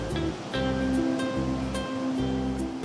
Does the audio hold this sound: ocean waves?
yes